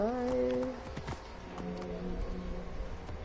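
A ridden horse's hooves patter softly in a video game set in ancient Alexandria, a light running clip-clop under tonal game ambience and brief musical notes.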